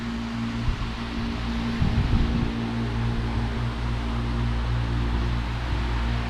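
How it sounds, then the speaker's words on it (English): An electric fan runs continuously inside a cedar-walled cargo trailer under conversion, giving a steady, loud broadband whoosh with a low hum, a few faint bumps near the start. "I got the fan on, so sorry about the noise"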